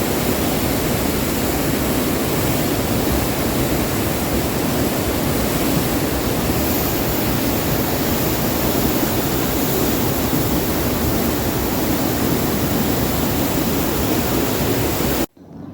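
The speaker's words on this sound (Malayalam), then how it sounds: "എന്തൊരു ഭീകരമായിട്ടുള്ള കുത്തിയൊഴുക്കാണ്" Loud, continuous roar of a flooding river's rushing water after a landslide in Meppadi, a dense unbroken torrent that fills the whole clip and stops suddenly at the end.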